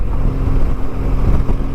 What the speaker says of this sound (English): the engine itself, the way it delivers its power, even in this older 1200 form, it's just superb.